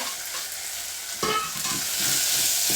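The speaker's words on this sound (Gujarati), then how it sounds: "આવી રીતે થોડી વાર સતડાવી કોબીને ને મરચાંને" Cabbage and red chillies sautéing in a pan give a dense, continuous sizzle close by, with a brief clatter of stirring partway through and no voices.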